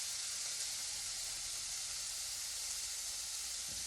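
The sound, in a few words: shrimp and green onions sizzling in a pan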